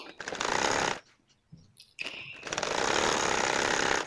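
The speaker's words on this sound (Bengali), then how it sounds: "আমি সমানভাবে এটাকে সেলাই দিয়ে নিচ্ছি" A sewing machine stitches fabric for a baby party dress, a fast, loud buzzing run, a short pause with faint handling noises, then another steady stitching run; close and without talk.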